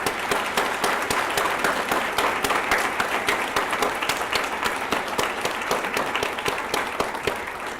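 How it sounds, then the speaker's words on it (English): A large audience gives a long round of applause for the finalists at an evening event, with dense, steady clapping that continues evenly throughout. "I think that they deserve one more very large round of applause"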